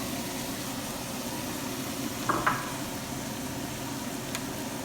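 Cauliflower pieces tipped into a hot pan of masala for a cauliflower dosa filling give a steady, even sizzle, with a brief clatter partway through and no talking.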